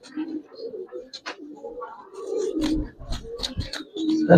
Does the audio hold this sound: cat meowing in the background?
no